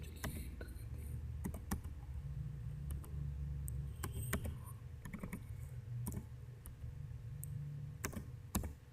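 Keys clatter on a computer keyboard as an IMEI number is typed in, a steady run of close, crisp clicks with brief pauses, over a low constant hum and no talking.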